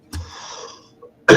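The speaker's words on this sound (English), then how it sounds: "I can't stop coughing. I got a tickle in the back of my throat." A man coughs from a tickle in the throat: one short cough, a raspy wheezy exhale, a small catch, then another loud harsh cough up close.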